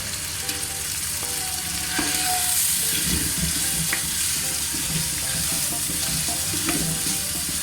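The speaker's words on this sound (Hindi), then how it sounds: "गोश्त इसको हम हल्का से भून रहे हैं।" Steady, loud sizzling of beef frying with garlic, ginger and turmeric paste in a hot pot, with occasional scraping and stirring clatter throughout.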